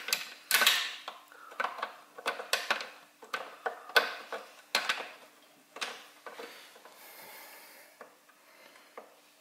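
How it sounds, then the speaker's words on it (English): A bolt is threaded onto the bracket of a Toro TimeMaster 30-inch mower deck during a blade engagement belt replacement, giving close, irregular metallic clicks and ticks in short bursts that thin out toward the end. "And so threading that bolt."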